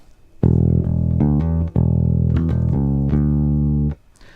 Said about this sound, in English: the bass groove that's played throughout the first 3 bars